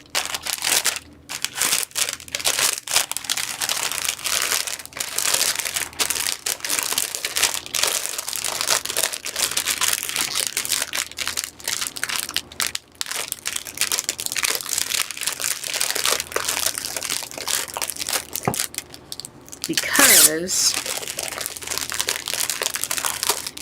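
Tissue paper and a gift bag are crinkled and unwrapped up close, with loud, continuous rustling and crumpling broken by brief pauses and sharper crunches, and a single word is spoken briefly near the end.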